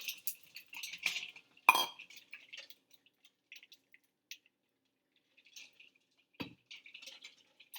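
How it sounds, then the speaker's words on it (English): Ice cubes dumped into a bowl of water to make an ice bath for chilling cooked eggs, giving a quick cluster of clinks and splashes, then scattered small drips and clicks with one later knock, heard alone and close. "Go ahead, dump your ice."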